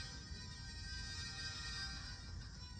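Music plays from a folding, lightsaber-style blind mobility cane at a convention demo: a steady electronic tune with sustained tones runs continuously over a busy, noisy room background.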